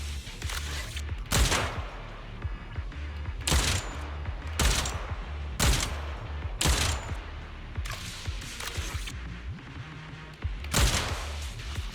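A sniper rifle in Zenless Zone Zero firing in quick repeated bursts like an assault rifle, loud, sharp shots coming in regular clusters about every second, no talking.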